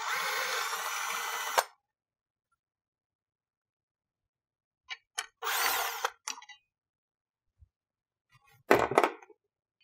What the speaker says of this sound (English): You'll need a long socket to do this top bolt here.